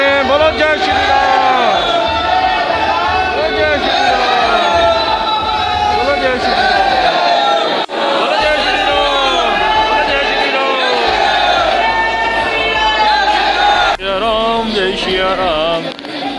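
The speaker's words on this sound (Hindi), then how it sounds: "भक्तों कितनी भीड़ है यहाँ पर सुबह मॉर्निंग में, जय श्री राम के नारे लग रहे हैं" A large crowd of devotees chants Jai Shri Ram at Mehandipur Balaji temple in Rajasthan in the morning, loud rhythmic massed voices with whoops and babble, sustained throughout.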